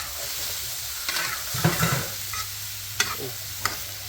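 Pieces of eel stir-fried in oil in a pan for a Chinese-Isan style eel curry, giving a steady low sizzle broken by a few scraping stirs and sharp clatters of the utensil.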